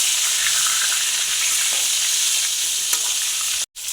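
Brinjal frying in oil with turmeric and salt and being stirred in the pan, making a loud, continuous sizzle with faint utensil scrapes that cuts off briefly just before the end.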